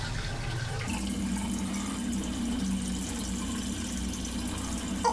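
Tap water runs steadily into a sink in a Paris home while someone rinses their face, a continuous close splashing rush with no talking.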